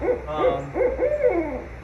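An owl at a SeaWorld San Antonio animal ambassador show hoots in a steady series of four or five close, clear calls, with no voices over it.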